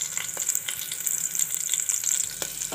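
Onion, green chilli and carrot frying in a pan for bitter gourd biryani give a steady, soft sizzle throughout, with occasional faint stirring clicks and no talk.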